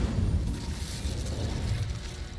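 An Incendio fire spell cast in Hogwarts Legacy, a sustained roaring, crackling burst of flame with a heavy low rumble that holds steady throughout.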